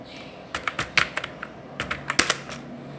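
Rapid, uneven keystrokes on a computer keyboard while entering payroll details in accounting software, with close, crisp clicks in short bursts and brief pauses in a quiet room.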